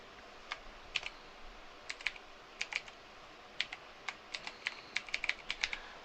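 Irregular keyboard clicks from someone hitting random keys on a computer keyboard, sharp close taps in uneven bursts with short pauses, no talking.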